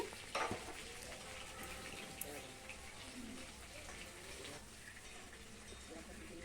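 Pointed gourd (potol) sizzles steadily in hot oil for a Bengali vegetarian dish, a faint, crackling hiss that runs throughout while a person talks over it.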